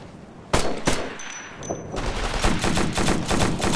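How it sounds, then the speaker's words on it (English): Gunfire in the video game Operation Flashpoint: Red River: two sharp close shots, then sustained rapid machine-gun fire building into a dense, loud fusillade, with a brief metallic ring. "I'm taking fire over here."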